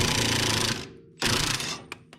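An impact tool hammers rapidly on a ball joint of a Mercedes W124, a loud close rattling burst, a brief pause, then a second burst and a couple of short taps.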